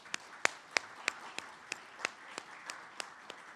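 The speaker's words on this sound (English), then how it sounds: "let's give them a round of applause" Sparse, evenly spaced handclaps at a chamber of commerce lunch, about a dozen sharp claps in a slow steady rhythm, fairly quiet and close against a hushed room.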